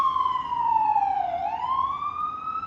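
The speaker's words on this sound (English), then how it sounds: "Hold on, let this ambulance go by." An ambulance siren wails loud and steady as the vehicle passes nearby, its pitch sliding downward then rising again, over a low hum of street traffic with no talk.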